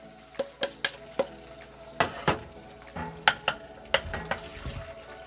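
Eggs go into a pan of Costa Rican gallo pinto, heard as a low sizzle broken by a series of sharp clicks and scrapes from a utensil against the pan, close and fairly quiet, without speech.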